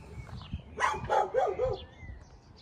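Dogs barking behind a fence at a cemetery in Charleston, a short run of three or four moderate barks close by against quiet background.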